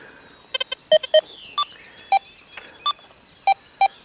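A metal detector at maximum speaker volume gives a series of short, sharp electronic tones, about ten beeps in an uneven rhythm, loud and close, with no talking.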